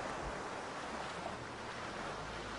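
An off-road vehicle pushes fast through deep water, producing a continuous loud rushing surge of splashing water and wind-buffeted noise without speech.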